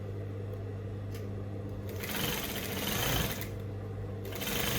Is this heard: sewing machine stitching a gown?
yes